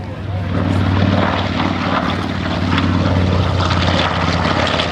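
A B-25 bomber takes off at a warbird airshow, its piston engines and propellers producing a loud, sustained roar that holds steady throughout.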